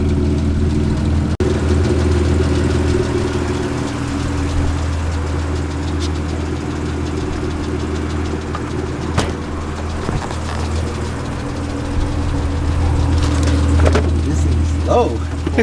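A 1991 Honda NSX idles with a steady, low, even engine hum that runs unbroken throughout, close by, with a few faint clicks and knocks over it.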